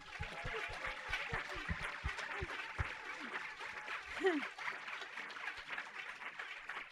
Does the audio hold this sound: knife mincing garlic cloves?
no